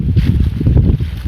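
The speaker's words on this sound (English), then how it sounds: "I'm sorry about the wind, because it's going to be in the mic." Gusty wind buffets the microphone, producing a continuous low rumbling roar that swells and fades in uneven bursts.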